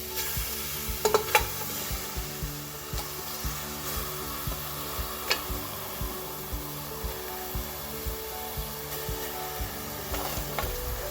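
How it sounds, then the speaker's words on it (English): Meat for Ofe Nsala being stirred and cooked in a pot, a steady low sizzle with regular rhythmic scraping strokes of a spoon against the pot, close and moderately loud, with no talking. "So now I'm going to introduce the meat into the pot."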